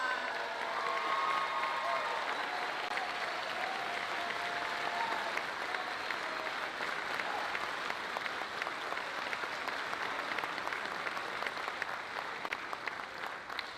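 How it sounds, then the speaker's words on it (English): An audience at a high school choral arts concert applauds loudly and steadily for the whole stretch, a dense, even wash of many hands clapping, with faint cheering and crowd noise mixed in. "Give them one huge round of applause."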